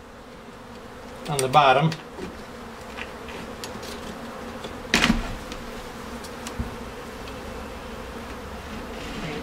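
Honeybees buzz around an opened hive during a walk-away split, a steady insect drone running throughout with a louder close pass near the start and another midway, while someone speaks briefly.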